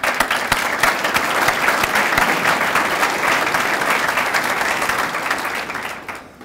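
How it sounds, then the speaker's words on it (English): Sustained applause from an audience at a Missouri S&T university chancellor announcement, loud and dense throughout before fading at the very end. "I want to just give you all a round of applause for that."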